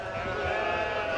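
Goats bleating in one long, loud, sustained nasal cry close to the microphone, steady and unbroken with no talk over it.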